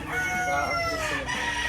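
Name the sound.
bullstag young rooster crowing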